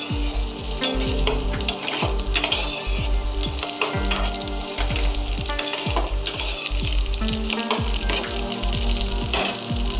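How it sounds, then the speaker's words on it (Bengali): Cut potatoes fry in hot oil with a steady, close crackling sizzle, while a regular low thumping pulse runs underneath from start to finish. "এই তেলের মধ্যে আমি কেটে রাখা আলুগুলো ভেজে নেব।"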